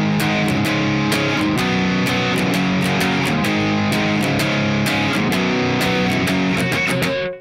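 Distorted electric guitar playing the main chorus riff of a song, with driving chords and sharp rhythmic accents, loud and continuous with no voices.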